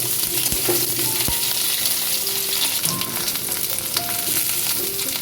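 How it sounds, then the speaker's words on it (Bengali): Raw banana and potato pieces frying in mustard oil for a curry, a steady loud sizzle throughout with occasional clinks and scrapes of stirring, no voices. "কাঁচকলাটা লাল করে ভেজে দিচ্ছি।"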